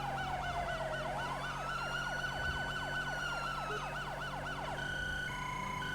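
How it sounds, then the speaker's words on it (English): A police siren from the game GTA V wails continuously, its pitch sweeping in a rapid yelp, with a second siren tone overlapping and switching partway through. Steady, fairly close, no talking. "This siren's weird. That siren weirds me out."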